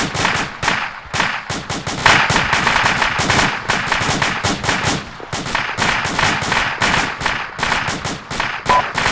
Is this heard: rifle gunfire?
yes